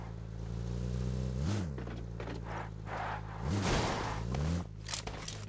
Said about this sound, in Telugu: 150 వస్తుంది బ్రో మన కారు